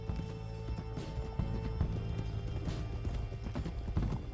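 Horses gallop with steady clip-clop hoofbeats and an occasional whinny in Red Dead Redemption 2, a posse of outlaws riding out together, the dense pounding of several mounts loud and continuous with no talk over it.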